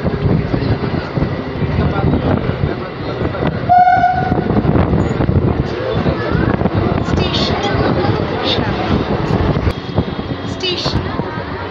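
An ICF EMU electric multiple unit train arriving at Shyamnagar station, with a loud continuous rumble of wheels and carriages and a brief horn blast partway through, close and steady.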